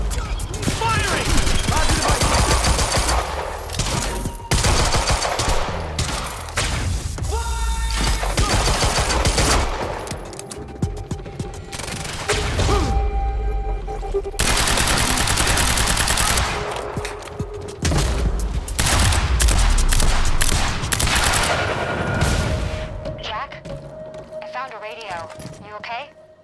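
Heavy gunfire in the shooter game Quantum Break, with dense bursts of automatic fire and explosive volleys running almost continuously at close range, a few brief lulls between, and voices speaking over the combat.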